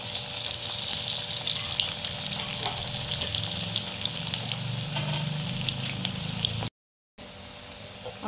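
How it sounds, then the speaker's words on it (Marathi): A second batch of vadi deep frying in reheated hot oil gives a continuous, even sizzle and bubbling that breaks off for a moment near the end and then resumes. "तेल पुन्हा आपण थोडं गरम करून घेतलेलं आहे आणि आता आपण ही सेकंड बॅच टाकून घेतली आहे।"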